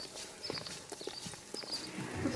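Young sport horses in training at a breeding farm, their hooves clopping in a faint, irregular walk on a hard floor inside a stable, with soft background noise.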